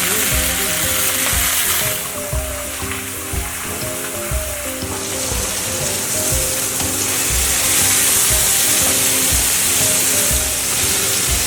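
Food sizzles and spits steadily in a hot, greasy pan, a loud continuous frying hiss with crackles throughout and low clatter and scraping underneath.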